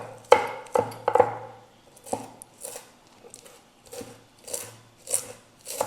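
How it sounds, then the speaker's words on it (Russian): A knife finely chopping fresh herbs on a board for homemade stuffed peppers, making a series of sharp, close taps and thuds in loose groups with short pauses between them. "Вот так мелко порезали."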